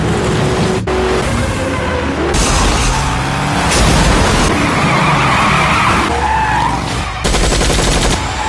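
Car in a film tearing off at full throttle, loud engine roar with screeching skids and bursts of gunfire in a dense, busy action mix.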